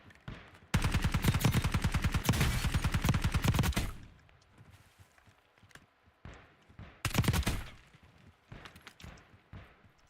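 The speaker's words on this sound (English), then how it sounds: "Feel like somebody's shooting at him inside." Automatic gunfire in Call of Duty Warzone, a long sustained burst of rapid shots near the start, then scattered footsteps and a second short burst later, loud and close.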